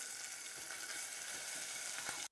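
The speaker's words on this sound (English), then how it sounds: "I've got garlic and ginger. So I'm just going to put that in there. Hear it sizzle," Garlic and ginger sizzle steadily in a hot skillet, a dense, even hiss close up that holds for about two seconds before cutting off abruptly, with no talking over it.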